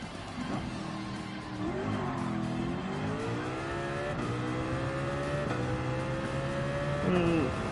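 Car tires sliding in Gran Turismo 7, drawn-out squeals that bend in pitch over a loud, revving race-car engine, swelling near the end of the slide.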